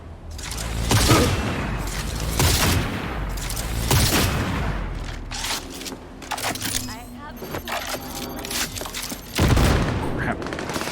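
Bursts of gunfire from Cyberpunk 2077, heavy rattling volleys and booming shots with a faint continuous tone beneath, rising again near the end, mixed with game noise and someone talking.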